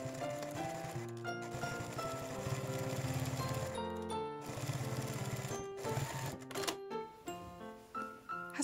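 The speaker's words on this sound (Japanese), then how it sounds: "こちらの端から約2ミリのところで縫っていきます。" A sewing machine stitches fabric about 2 mm from the edge while making a child's elastic triangle headscarf, running in bursts of steady mechanical whirring broken by short pauses, close and clear with no talk.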